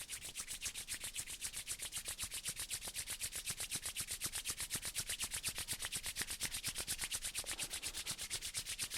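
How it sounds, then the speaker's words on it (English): Palms rubbed briskly together to build heat during a yoga session, a fast, even, rhythmic swishing that repeats steadily throughout, close and quiet with no talking. "just begin to rub the palms together to create tapas heat"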